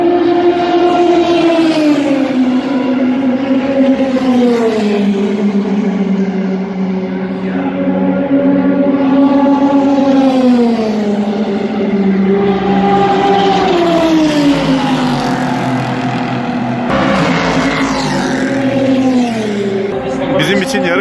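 Race cars roaring past on a racing track straightaway, loud sustained engine whines rising and falling in pitch as cars pass in succession, dominating the scene.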